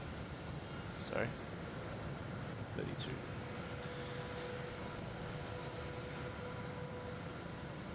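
Turkish Airlines Dreamliner jet at Melbourne Airport at night, heard as a steady, moderately distant engine roar with a couple of brief bright bursts near the start.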